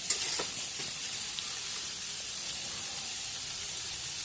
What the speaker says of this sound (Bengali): তারপর একে একে টমেটো কুচো, আদা বাটা এগুলো দিয়ে ভালোভাবে নাড়িয়ে নেবেন।